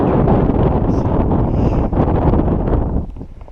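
Strong wind buffeting the microphone on an exposed mountain trail at the Pas de la Cavale, a loud continuous roar and rumble with gusty fluctuations that eases slightly toward the end.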